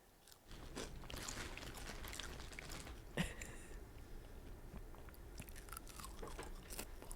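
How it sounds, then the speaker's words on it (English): Someone munches food close to the microphone in ASMR style, with steady crunchy chewing and biting that runs the whole clip alongside soft background noise. "then you just hear me munching"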